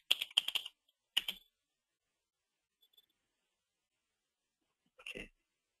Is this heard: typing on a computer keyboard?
yes